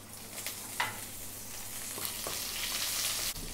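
Curry leaves and mustard seeds fry in hot oil with dried red chillies and dal for banana stem stir-fry, giving a steady, close sizzle with a few brief crackles and pops and no talk.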